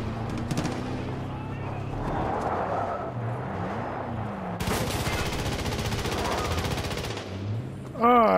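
Rapid bursts of automatic gunfire in Far Cry 5 rattle continuously over a rumbling vehicle engine. A second, louder volley hits midway, and a voice breaks in near the end.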